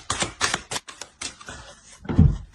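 Tarot cards handled at close range on a tabletop, a few short dry slaps and shuffles in uneven bursts, ending with a heavier soft thump.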